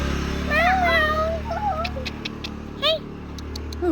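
A cat meows several times in a villa during a year-end holiday stay, clear rising-and-falling calls near the start with later short mews, over a steady low room hum and faint background chatter.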